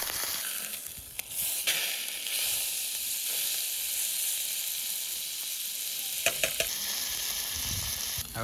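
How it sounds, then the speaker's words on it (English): Steak sizzles in a frying pan at a campsite near the Grand Canyon, a continuous, fairly soft hiss and crackle that holds steady throughout with no talking. "That sizzle is not loud enough."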